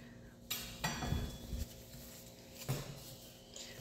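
A utensil knocks and scrapes against a counter as soft sweet gnocchi dough is cut into pieces, several sharp taps with quiet gaps between, fairly faint and close.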